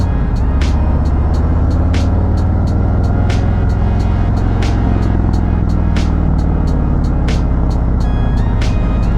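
A 2018 Harley Davidson Road Glide Special cruises steadily, its engine a loud continuous low rumble with a whining primary drive, while sharp regular clicks repeat throughout over the ride.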